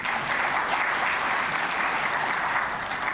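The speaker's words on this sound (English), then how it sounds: "A round of applause for all of you." A roomful of delegates applauding at the opening of an ARIPO session, producing a continuous, even roar of clapping hands that holds steady throughout.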